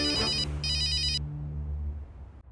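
A telephone rings indoors with two bursts of a shrill electronic trilling tone over a steady low hum, then falls quiet.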